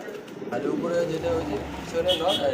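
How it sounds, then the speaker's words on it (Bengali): A pair of Black Beauty pigeons, a male and a female, coo softly and repeatedly up close, with indistinct background voices around them. "পিছেরটা নর সামনেটা যেটা হচ্ছে মাদি কবুতর"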